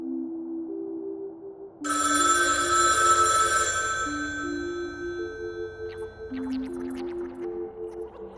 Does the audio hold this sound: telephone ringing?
yes